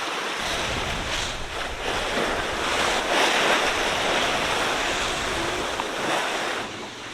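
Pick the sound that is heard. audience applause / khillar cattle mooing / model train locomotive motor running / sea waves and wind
sea waves and wind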